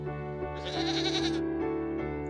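Goats bleat loudly in a bedtime story about a wolf hunting down hiding goats, a sustained wavering bleat in the middle of the clip over a steady musical background, with no talking.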